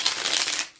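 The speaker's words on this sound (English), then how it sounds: "But certainly we will go ahead and do some shuffling on camera." Tarot cards being shuffled by hand, a dense papery riffle and swish lasting under a second before fading, close and fairly loud with no talking.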